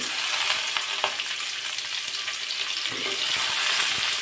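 Flat beans and carrots stir-frying in a pan for vegetable biryani, a steady close sizzle with a few scrapes and stirs, no voices.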